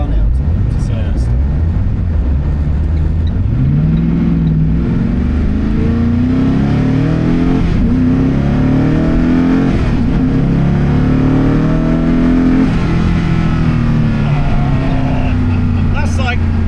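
Koenigsegg Agera N hypercar with a 1,360 hp engine, heard from inside at light throttle: a continuous low, rising engine drone with harmonic sweeps as revs climb and fall, loud and steady, with a voice talking over it.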